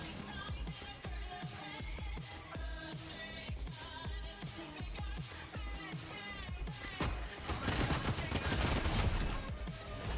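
Close, loud bursts of video game gunfire crackle in quick succession, SMG and shotgun fire overlapping into a dense fusillade that swells louder and noisier toward the end.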